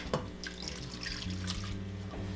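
Water running from a tap into a saucepan of torn red cabbage leaves on a stove, a steady close splashing and trickling stream with a brief drip near the start.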